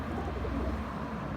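Pigeons coo softly and steadily inside a loft, a low continuous murmur of many birds close by with no talking.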